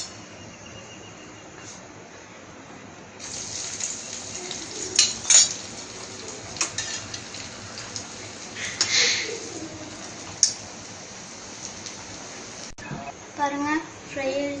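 Potato cutlets made from leftover fried potatoes sizzle in hot oil, a steady hiss broken by scattered clinks of a utensil against the pan, with a voice talking over it now and then.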